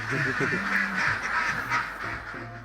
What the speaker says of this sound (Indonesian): Untuk satu kandang seperti ini biasanya kapasitas bebeknya mencapai 1000 ekor bebek.